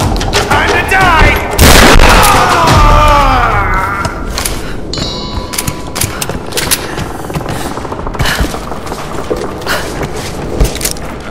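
Shotgun blasts in the Tomb Raider Definitive Edition video game boom loudly over ringing echoes, followed by a steady run of sharp, repeated shots and game combat noise.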